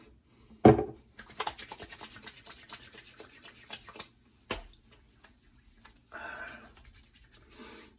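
Nivea face shaving balm is rubbed onto the face by hand, soft close brushing and rubbing strokes in uneven bursts with a couple of sharp taps, no talking.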